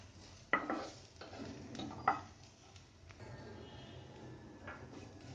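Ground spices (cumin, garam masala, black pepper, turmeric) are lightly roasted in a pan for paneer paratha filling, with a couple of sharp spoon-on-pan clinks over quiet stirring and a faint sizzle.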